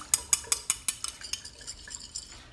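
A spoon stirs a bowl of chili, garlic, sugar, vinegar and fish sauce to dissolve the sugar, giving a run of sharp, bright clinks against the bowl that soften and thin out toward the end, close up and with no speech.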